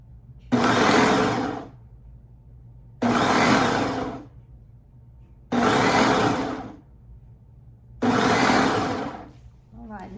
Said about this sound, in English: we have them in our food processor here, and when we turn it on, we're just gonna kind of roughly chop